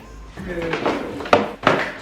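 Air fryer drawer sliding and clunking in a laundry room, two sharp knocks near the end, with a voice talking over it.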